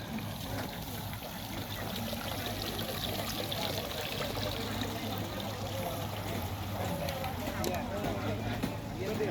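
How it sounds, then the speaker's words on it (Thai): Water from a decorative garden waterfall at a plant show in Suan Luang Rama IX park pours in a steady, continuous rush, with people talking nearby. "นี่เป็นน้ำตกแต่งสวนเนี่ย"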